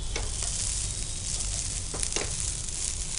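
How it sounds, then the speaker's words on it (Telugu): Schezwan rice with baby corn and paneer fries in a pan with a loud, continuous sizzle, broken by a few scraping stirs of the spatula, close up and without talk. "ఇంకొంచెం ఫ్రై కావాలి కదా రైస్"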